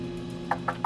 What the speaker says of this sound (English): All of a sudden, you hear knocking on the door.